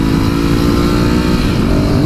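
A 2019 Ducati Scrambler 1100 pulls hard under acceleration, its engine note loud and close as it climbs steadily, with no talk over it.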